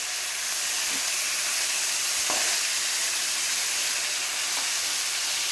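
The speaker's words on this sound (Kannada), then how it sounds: "ಇದನ್ನು ಚೆನ್ನಾಗಿ ಫ್ರೈ ಮಾಡ್ಕೊಳ್ಳೋಣ." Vegetables for a vegetable sagu fry in a pan, making a steady, loud hissing sizzle with a couple of faint utensil ticks.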